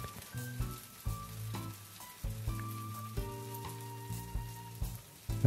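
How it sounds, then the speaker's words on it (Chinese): Taiwanese radish cake, made with rice and pork, frying on its second side in an oiled pan, giving a steady close sizzle under background music. "好，那另外一面呢，也是一样煎3分钟。"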